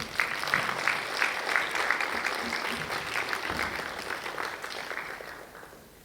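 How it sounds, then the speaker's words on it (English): Audience at a TEDx youth event applauding speakers, a steady mass of hand clapping that holds evenly and then tapers off toward the end, heard alone without talk. "Please give a huge round of applause for all our speakers for the day"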